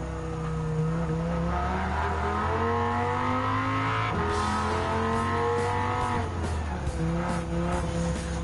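A Dodge Viper GTS race car in Gran Turismo 7 drones loudly and continuously, its engine pitch climbing and dropping through gear changes, with brief tire squeals near the end.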